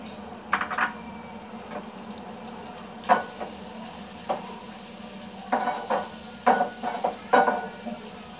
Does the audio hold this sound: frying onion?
yes